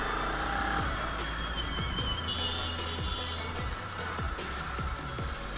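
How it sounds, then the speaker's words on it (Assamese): Traffic at a busy town intersection by a mosque square in Nalbari, Assam, in the evening, with cars and motorbikes passing close by in repeated whooshes over a steady road hum, no talk. "এতিয়া চাৰিওফালৰ পৰা গাড়ী আহি আছে।"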